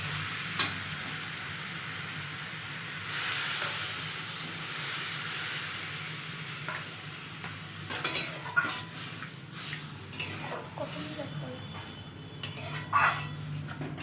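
Water poured into a pan of potato and vegetable curry sets off a broad hissing sizzle with stirring clinks and scrapes, steady at first then breaking into sharper bursts, close and moderately loud.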